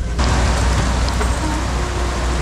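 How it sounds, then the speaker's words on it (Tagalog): Rain falls steadily and loudly in San Felipe, Zambales, a dense, continuous hiss that fills the whole moment. "It's raining here."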